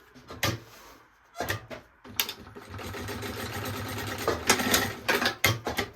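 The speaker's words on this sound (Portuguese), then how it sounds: "a gente costura pra fora da marcação" Sewing machine stitching a fabric maternity bag in a U shape along a marked line, running in several stretches of steady mechanical whirring with short pauses and clunks between bursts.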